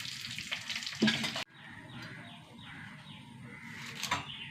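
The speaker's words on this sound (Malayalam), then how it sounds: "രണ്ട് വറ്റൽമുളക് പൊട്ടക്കുന്നു." Dried red chillies and fenugreek seeds crackle and sizzle in hot oil, a close, bright frying hiss that drops off suddenly, then lighter crackling with soft stirring sounds.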